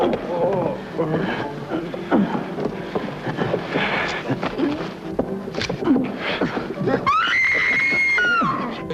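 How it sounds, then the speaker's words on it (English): A woman screams in a 1953 film, the cries rising over a busy mix of voices, hoofbeats and commotion, with a sustained high scream near the end. "I hear a lady screaming?"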